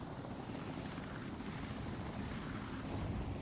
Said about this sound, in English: Helicopter full of people, oh my god!